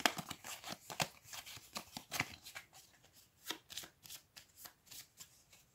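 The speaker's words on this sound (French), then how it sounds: "je remélange un petit coup devant" Tapestry board game cards are shuffled in a quick sequence of crisp riffling bursts, close and soft, each flutter separated by brief pauses.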